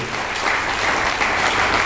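An audience claps loudly and continuously at a job-joining talk, dense even applause with no voices over it.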